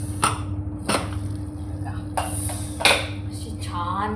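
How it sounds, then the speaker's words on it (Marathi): A pressure cooker lid is opened after cooking a val papdi vegetable dish, giving several sharp metallic clicks and clanks spaced apart over a steady low hum. "आता मी कुकर उघडते."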